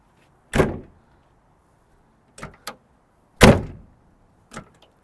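An AMC car door with its weather strip peeled off at the front edge swings shut, two solid thuds spaced apart with lighter clicks and latch taps between them, close and alone in a quiet garage.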